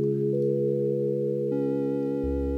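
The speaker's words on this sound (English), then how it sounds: "This is a sine wave, which is very pleasing." Steady electronic sine-wave tone from a Harmonic Explorer synthesizer, clean and sustained, with the held pitches shifting once or twice along the way.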